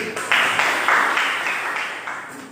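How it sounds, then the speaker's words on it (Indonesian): Students in a high school physics class applaud a group after its presentation, giving a burst of clapping that swells quickly and then gradually fades, with no voices. "Ya, silakan tepuk tangan dulu"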